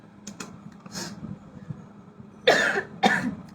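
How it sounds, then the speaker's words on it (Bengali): Two sharp coughs close together near the end, loud and close, after a stretch of quiet clicking and light rustling during a makeup session. "কাশি কি ভালো হবে না বলো তো?"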